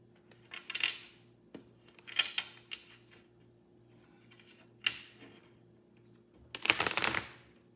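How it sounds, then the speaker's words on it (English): A deck of playing cards shuffled by hand during a card reading, with short riffling bursts at intervals and a longer, louder flurry near the end, close and alone. "Let's give that a shuffle one more time."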